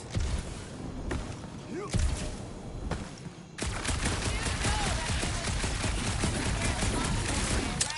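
Bursts of rapid gunfire in Guardians of the Galaxy on PS5 crackle in a dark area, a few sharp isolated shots giving way to a sustained loud volley, with a voice speaking briefly between.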